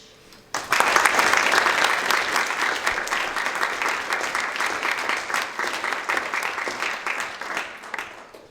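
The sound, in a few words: applause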